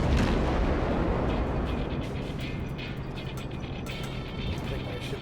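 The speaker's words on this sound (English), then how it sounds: "we're going to go ahead and open up with some high explosive rounds" A cruiser in World of Warships fires high-explosive rounds, a heavy booming rumble at the start that fades into a sustained low roar of battle noise.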